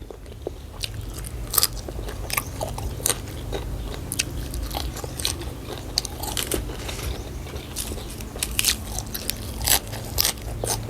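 Close crunchy biting and chewing of spicy Thai beef larb with raw vegetables, a steady run of crisp crackling bites and mouth sounds with a low background rumble, no talking.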